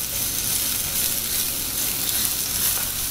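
Sliced onions sautéing in a frying pan for entomatadas, a continuous bright sizzle with crackling spatter, close and steady without pause.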